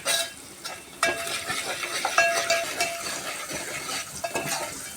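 Turmeric, chili and other spices fry in oil over a low gas flame, producing a crackling sizzle with scattered clinks and scrapes of a spoon against the pan.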